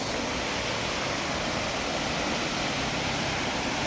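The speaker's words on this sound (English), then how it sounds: "this is the highest or the longest waterfall ever" A tall waterfall at the Mau Mau cave in Embu, Kenya, roars as a steady, dense, loud wash of falling water with no break.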